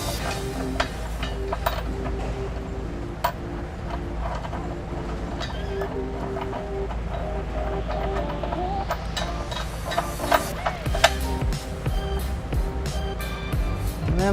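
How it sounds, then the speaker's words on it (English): Bolt with a conical washer being threaded into the frame weld nuts during a trailer hitch install on a 2001 Honda Odyssey, heard as scattered metallic clicks and taps over a steady background hum. "I'm going to go ahead and take the provided bolt and conical washer"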